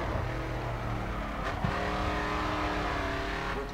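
Race car engine revving and accelerating in the racing video game Grid 2, a loud sustained harmonic roar with shifting pitch and a brief squeal-like burst midway, no voices.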